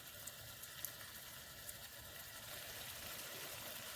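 Four salmon pieces sear in a wide pan, giving a faint, steady low sizzle and soft bubbling crackle with a few tiny pops throughout.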